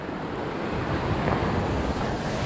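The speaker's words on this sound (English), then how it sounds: "there's the river" A river on the Timberline Trail on Mt Hood rushes with a steady, broad roar of flowing water that stays constant throughout, close and loud with no voices.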